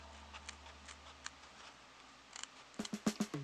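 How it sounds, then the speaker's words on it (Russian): Manicure scissors snip through folded felt, a cluster of close, crisp clicks and short cuts near the end after faint scattered ticks against quiet room noise. "Берем маникюрные ножницы и вырезаем сразу две ручки."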